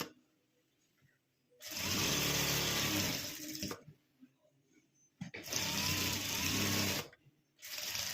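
Sewing machine stitching a jacket made from saree fabric, two long fast runs of close mechanical whirring separated by quiet pauses, with a short third burst at the end.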